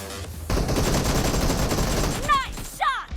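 Gunfire in the mobile battle-royale game PUBG Mobile: a dense burst of rapid shots fills most of the moment, ending with a couple of sharp ricochet-like whines, loud and close.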